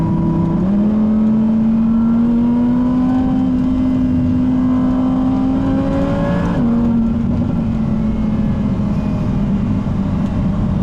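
A supercharged V10 engine revs hard and pulls through the gears, the pitch climbing steadily before a brief shift and another rise. The engine is loud and close, with no voices.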